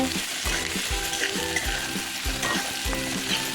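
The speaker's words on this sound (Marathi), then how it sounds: "आता टाकते कांदा तेव्हा कांदा टाकून घेतलेला आहे" Onion frying in hot oil with curry leaves, a strong continuous sizzle punctuated by rhythmic low thumps and scrapes of a spatula stirring the pan, close and loud.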